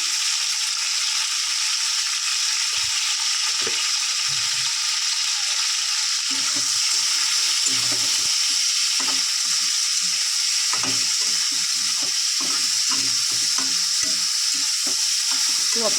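Chicken pieces fry in hot oil in a pan for chicken patties, a constant loud sizzle close up with irregular scraping and clacking as they are stirred.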